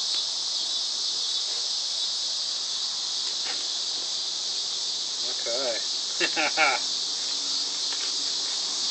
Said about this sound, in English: Those are cicadas that you might be hearing,